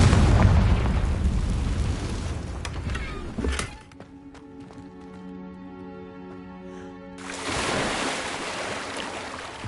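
A Confringo blast spell in Hogwarts Legacy lets out a loud rushing burst that cuts off abruptly, then a quiet lull with a soft tonal hum before another roaring wash swells back.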